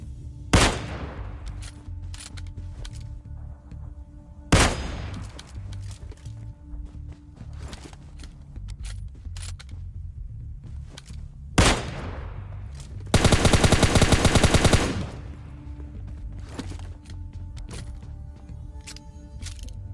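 M416 rifle fire in PUBG Mobile Lite: several sharp single shots spaced seconds apart, then a loud sustained automatic burst of about two seconds, over a low steady game ambience with faint footsteps.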